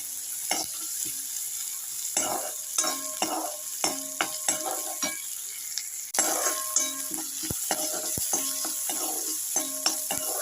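Onions with ginger-garlic paste saute in a pan for a pea fry, with repeated scraping strokes of a spatula over a steady sizzle, in close, rhythmic bursts throughout.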